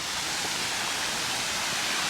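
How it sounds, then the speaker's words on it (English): Water pouring down from Ferry Falls in Victoria's high country near Mt Buller, a constant broad rushing roar, dense and unbroken throughout with no voices. "this water is all coming from Ferry Falls"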